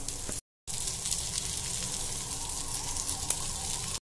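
Steady, loud sizzling of seer fish (surmai) frying with a double coating in a hot pan, a continuous crackle with a brief cut near the start.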